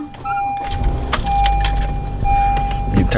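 Car keys jangle close by in a parked car, with bright metallic rattles in short bursts over a steady in-car tone and low cabin rumble.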